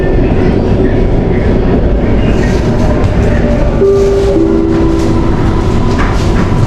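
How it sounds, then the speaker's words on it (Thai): Bangkok MRT metro train pulling into Lak Song terminal station, a steady loud rumble of wheels and rail noise with faint squealing tones near the end, no talking. "ผมนั่งรถไฟฟ้ามาสุด สุดสถานีเลยนะครับ"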